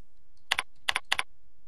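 Three quick double taps on a computer keyboard, crisp and close, separated by short silences in an otherwise quiet room.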